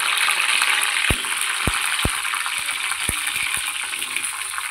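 Mustard seeds and curry leaves frying in oil, a constant sizzling hiss punctuated by several sharp pops and crackles of seeds bursting, close and loud, with no talking.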